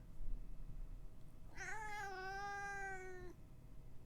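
A house cat gives one drawn-out, irritated meow lasting under two seconds, close and clear over a low background murmur.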